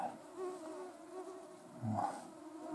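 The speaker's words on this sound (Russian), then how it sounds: "Ох, эти твари, блин. Тысячи, миллионы, миллиарды штук их." A swarm of bloodsucking insects buzzes close by outdoors, a faint continuous hum with wavering tones and one brief louder pass near the microphone, with no talking.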